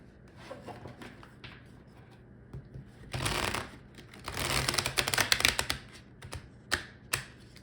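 Tarot cards are shuffled close by in quick papery riffles and rubbing bursts, mostly in the latter half, with no talk over them.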